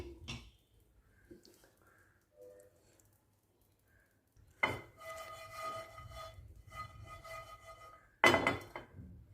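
Pumpkin seeds dry-roasting in a pan are stirred with a spatula, giving two short bursts of scraping and rattling, near and moderately loud, separated by quiet stretches.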